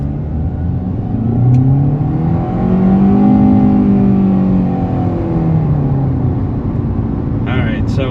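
A 2023 Kia Rio LX accelerating hard to 50 mph, heard from inside the cabin as a loud engine drone that rises steadily in pitch, then eases off, while a person talks over it.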